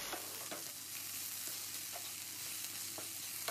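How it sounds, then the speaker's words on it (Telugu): Amaranth leaves with peanuts stir-fry in a pan over a medium flame, giving a steady close sizzle. Regular scraping strokes from stirring come roughly every half second. "మీడియం ఫ్లేమ్లో పెట్టి ఈ విధంగా కలుపుకుంటూ 1-2 నిమిషాలు ఫ్రై చేసుకుంటే సరిపోతుందండి"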